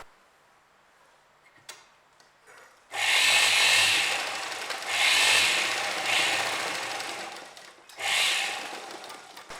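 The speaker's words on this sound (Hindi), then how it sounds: "यहाँ पर भी हम इस कट से इतनी डिस्टेंस के बाद सिलाई लगाएंगे।" Sewing machine stitching a seam on a crop top, running in three or four loud, steady bursts separated by short pauses, after a few quieter clicks and handling sounds at the start.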